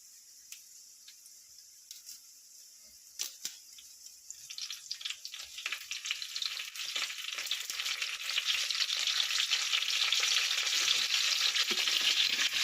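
Curry leaves hit a hot pan with green chillies, and a quiet sizzle bursts into loud, continuous frying crackle that keeps building and stays steady to the end.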